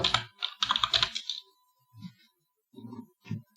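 Fingers type a VLOOKUP spreadsheet formula on a computer keyboard, a close, crisp flurry of quick clicks at first, then a pause and a few scattered keystrokes.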